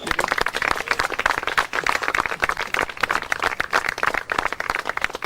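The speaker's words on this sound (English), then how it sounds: "let's have one last round of applause for Delphine" Audience applause at a dolphin show in the Florida Keys, a dense, steady wash of many hands clapping at once that carries on evenly throughout, with no talk over it.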